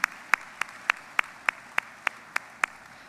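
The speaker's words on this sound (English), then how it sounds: "let's give these folks a round of applause" A single person claps slowly and evenly, about ten crisp, separate claps at a steady rhythm in a large hall at a Mississippi business leadership event, close and fairly loud with no talk.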